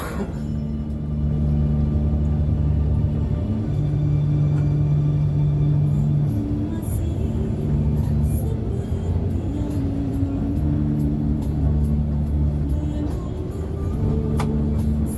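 Inside a PO Lorena long-distance bus on the Palembang–Jakarta route, a continuous low engine rumble with shifting droning tones as gears change, steady road noise throughout and no talking.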